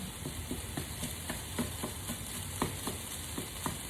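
Taco meat fries in a pan on a burner with a close, steady sizzle, broken by quick rhythmic scrapes and taps of a spatula stirring and chopping it.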